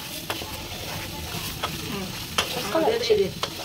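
Curry masala is stir-fried in a pan, giving a constant sizzle with repeated spatula scrapes and a brief burst of louder crackling and clatter near the end.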